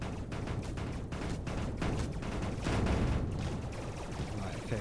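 Turrets in Mindustry fire nonstop, creating a dense, rattling barrage that stays loud and continuous throughout.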